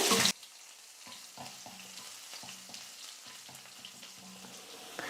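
Crushed whole garlic cloves and dals frying in hot oil with mustard seeds, giving a steady quiet sizzle with a few soft stirring scrapes, after a brief loud burst at the start.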